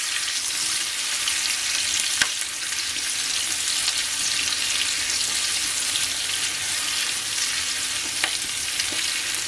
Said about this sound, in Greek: Θα τις τηγανίσουμε να μαλακώσουν.